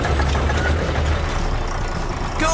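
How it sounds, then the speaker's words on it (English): A cartoon little bulldozer drives along with a loud, steady low engine rumble and broadband mechanical noise, ending with a brief higher squeal near the finish. "Go, little bulldozer!"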